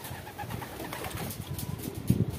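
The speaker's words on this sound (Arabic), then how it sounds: "هل رايت حمام يفهم الكلام؟" Pigeons cooing softly in a loft, a low, muffled burbling coo close by over faint background noise, with no talk.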